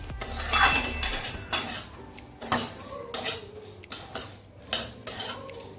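Semolina upma with carrot, capsicum and potato being stirred in a pan, a spoon scraping and clinking against the metal in repeated strokes about once a second, close and fairly loud with no talking.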